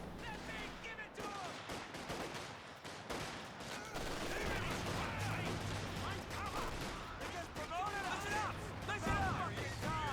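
Pack Howitzer white phosphorus barrage in Company of Heroes 2, a burst of sharp artillery and gunfire impacts scattered across a battlefield din, with a voice talking over much of it.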